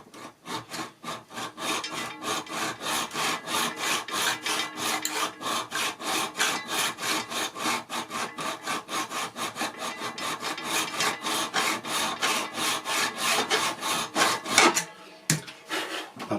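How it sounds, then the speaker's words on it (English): A hand file worked along a model railway rail for turnout construction, giving a close, steady run of rhythmic rasping strokes in even succession, then a few slower strokes at the end. "I'm just touching the web with my file now."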